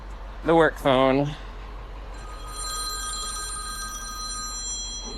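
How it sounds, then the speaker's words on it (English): A work phone rings with a steady electronic trill, heard a short distance off after a person speaks briefly, over a low constant hum of running machinery. "Oh, there's the work phone."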